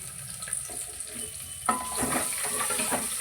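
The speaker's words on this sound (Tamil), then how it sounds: "2 வெங்காயம், 1 பச்சை மிளகாய் அதையும் போட்டு வதக்கிக்கோங்க" Two onions and a green chili hit hot oil for sambar, and a steady, watery sizzle swells up partway through and keeps crackling close by.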